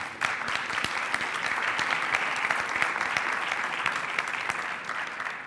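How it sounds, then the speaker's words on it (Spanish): A seminar audience applauds in a hall, with dense, sustained clapping from many hands at an even, strong level from start to finish before tailing off slightly. "Lo recibimos con un fuerte aplauso, por favor."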